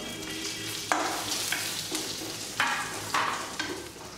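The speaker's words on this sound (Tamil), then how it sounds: "வெள்ளைப்பூடு இஞ்சி பச்சை மிளகாய் மூணையும் போட போகிறேன் தேங்காயை போட்டு வெதுக்கி விட்டுக்கலாம்" Garlic, ginger, green chili and coconut roast in a hot pan with a steady sizzle, broken by several sharp scraping stirs at irregular intervals, close and fairly quiet.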